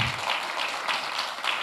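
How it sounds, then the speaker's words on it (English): Applause from a conference audience at a fintech challenge semi-final event, a steady dense wash of many hands clapping with no pauses, fairly near and full throughout. "Please, a round of applause"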